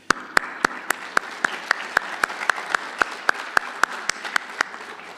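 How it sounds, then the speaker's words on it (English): Applause at the closing ceremony of the Pan African Mathematics Olympiad, a dense crowd sound punctuated by regular sharp claps cutting through, fairly loud and close, with no talking. "I'd like to give a round of applause for the wonderful welcome we've had here and to John and Liam who made it possible."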